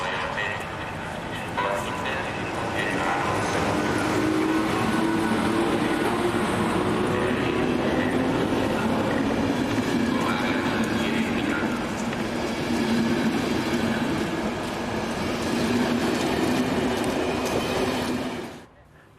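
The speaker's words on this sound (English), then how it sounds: "We return again to Debrecen station, where V431083 leaves with a southbound service." A Hungarian V43 electric locomotive pulls a southbound service out of Debrecen station with a loud, continuous rolling rumble and steady wheel noise that hold for the whole stretch, then cut off abruptly.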